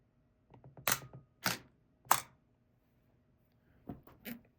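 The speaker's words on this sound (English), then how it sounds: "I'm going to hold the shutter open here." A Pentax Spotmatic film camera's shutter mechanism gives a few sharp mechanical clicks and clacks in a quiet room, first a cluster, then a pause, then two more.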